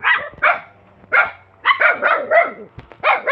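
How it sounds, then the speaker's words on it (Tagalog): A fierce dog at a hillside house barks repeatedly and loudly up close, sharp separate barks in irregular bursts with brief pauses between them. "Ayan po yung aso matapang, oh."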